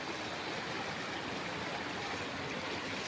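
Clear stream water flowing down from higher ground, a steady, dense rushing and gurgling close by, continuous and alone without voices.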